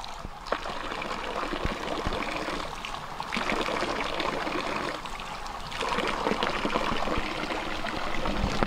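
Clear water streams continuously from a small waterfall pouring out of tree roots on a rocky hill, a loud steady rushing splash with occasional sharper drips and no talk.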